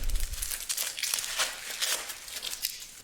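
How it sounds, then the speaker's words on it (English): Crinkly wrapping is peeled off a Cold Steel pocket knife, giving a steady run of close, dry crackles and rustles that flare and fade for about three seconds, with no talking. "So now we can unwrap the knife again."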